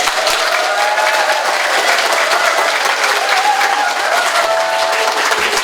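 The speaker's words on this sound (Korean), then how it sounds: "여러분들 감사하다는 박수를 좀 크게 치세요" Loud, sustained applause from an audience at a health lecture, dense continuous clapping that fills the whole stretch without pause.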